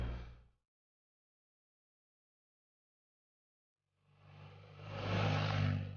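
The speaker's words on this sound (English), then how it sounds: "And I'm going to open the throttle." BMW R1250GS Adventure motorcycle accelerating in first gear: a brief engine tail-off, a silent gap, then a rising, swelling engine roar building loudly toward the end.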